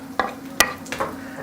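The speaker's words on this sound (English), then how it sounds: "These mushrooms, they are cooking" Mushrooms fry and sizzle in a pan with a steady hiss, broken by a few sharp clicks and scrapes of stirring.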